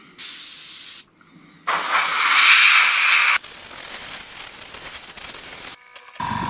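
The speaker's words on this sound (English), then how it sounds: "XF1 flat black, again thinned with some enamel thinner in the airbrush" An airbrush sprays Tamiya XF1 flat black thinned with enamel thinner at low pressure, giving steady close hissing bursts that start and stop, with a loud central burst and shorter ones around it.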